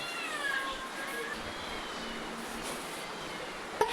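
A cat meows in a few drawn-out cries near the start, over a low murmur of background noise, then a brief sharp knock near the end.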